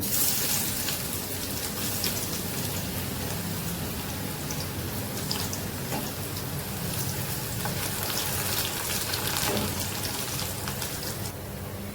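Garlic frying in hot oil for a tempering, a steady dense crackling sizzle with scattered pops, loud and continuous throughout with no talking.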